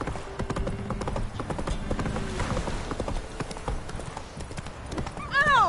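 Horse hooves clip-clopping in The Witcher 3 video game, a rapid uneven patter of hoofbeats close by throughout, with a brief whinny near the end and a voice speaking over it.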